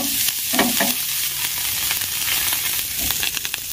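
An oil and water mixture brushed onto a hot appam pan for pitha gives off a continuous close sizzle and hiss, with faint brushing and scraping touches.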